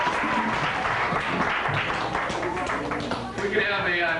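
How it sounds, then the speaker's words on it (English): A round of applause from an audience at a fire safety show on Cape Cod, dense clapping blended with a crowd voice speaking over it throughout. "We can have a nice round of applause for Bob and Inspector Kane."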